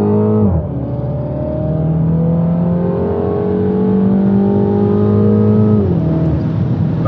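A Mini John Cooper Works F56 in sport mode with Active Sound accelerates hard, its engine note climbing steadily through the revs after a brief dip, loud and continuous throughout, with no talking.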